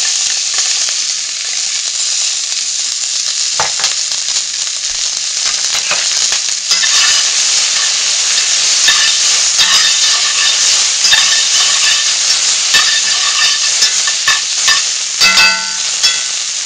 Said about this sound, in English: the oil is ready. So I'm going to put the onions in.